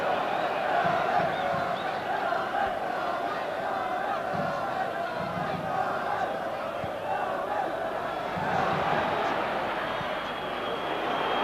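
A large football stadium crowd at a 1993 Manchester United versus Galatasaray match roars in a continuous, dense wash of chanting and shouting, swelling at moments, with no single voice standing out.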